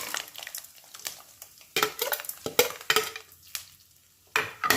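Lentils, peanuts and cashews sizzle in hot tempering oil with mustard seeds, with a soft crackle under repeated clinks and scrapes of a spoon against the pan.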